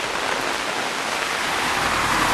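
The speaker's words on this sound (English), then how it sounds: "Rain in the watermelon patch." Rain falls steadily on a watermelon patch in a Japanese mountain village during a thunderstorm, a dense unbroken hiss with no voices.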